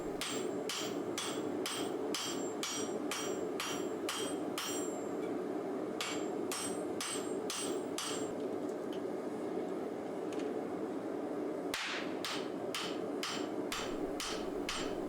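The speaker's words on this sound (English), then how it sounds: "I start by rough forging the tang end so that I can hold it easily with my box jaw tongs." Hammer blows ring out on katana steel while rough forging the tang end, a fast regular series of sharp metallic strikes in bursts with short pauses, loud and close over a steady forge roar.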